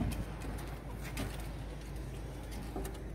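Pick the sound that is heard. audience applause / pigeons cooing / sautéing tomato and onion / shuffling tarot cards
pigeons cooing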